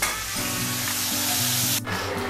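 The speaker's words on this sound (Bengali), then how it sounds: "দেখো, আমার ভাজা হয়ে গেছে। এগুলোকে আমি এবার তুলে ফেলব।" Cashews, garlic and chillies frying in oil in a pan make a loud, steady, close sizzle throughout, with a brief scrape of stirring near the end.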